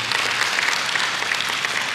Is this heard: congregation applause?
yes